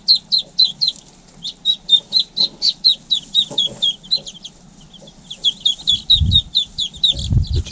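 Chickens clucking close by in a cage, a rapid run of short, repeated clucks and chirps in bursts, with a few low thumps and handling noises near the end.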